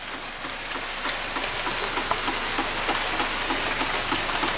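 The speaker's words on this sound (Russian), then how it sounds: "Музыкальный такой дождь" Rain drumming musically on a surface during rainy August weather, with fast irregular taps and distinct louder knocks over a constant hiss, close and continuous with no voices.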